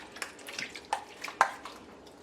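Pineapple jerk marinade poured over cut-up chicken pieces (legs, thighs, breasts, wings), a series of close wet splashes and drips in uneven bursts, no talking.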